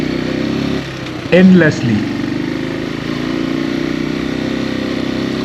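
A motorcycle engine labours steadily under load while climbing a steep mountain road in Mankayan, Benguet, a continuous mid-pitched drone running throughout, with someone speaking briefly over it.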